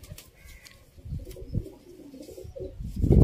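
Pigeons coo softly nearby in a Sialkot pigeon loft, low rolling calls repeating over a quiet background, with a louder rustle at the end.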